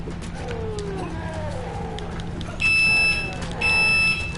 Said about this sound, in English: If you can hear a notification like beep going off